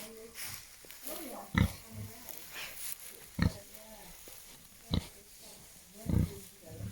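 Pig grunting on a farm being raised for butchery, with several short low bursts spaced a few seconds apart, moderately near, among low background noise.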